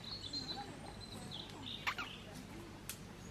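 Faint birds chirp and call now and then over a quiet outdoor hum, with a couple of sharper calls standing out.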